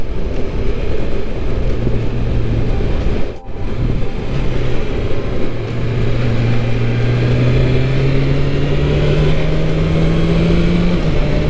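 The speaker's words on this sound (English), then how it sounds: "And surprisingly, it has a very different airbox sound to mine." A 2022 BMW S1000RR M Sport motorcycle engine with its airbox note, revving and rising steadily in pitch as it accelerates, with a brief gearshift dip early on and a loud, close tone.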